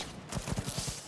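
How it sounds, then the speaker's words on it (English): Gunfire in Cyberpunk as a gun is tried out on people: a burst of about six rapid, evenly spaced shots over roughly a second, fairly loud and close, with no talk over it. "here are people I can test this gun on"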